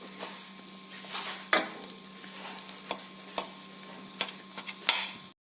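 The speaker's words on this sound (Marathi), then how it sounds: "त्यानंतर या मिरच्यांना सुरीने काप द्यायचा." A knife cutting hot capsicum chillies on a board in a kitchen, heard as sharp, separate taps spaced irregularly over a faint steady hum, close and moderately quiet.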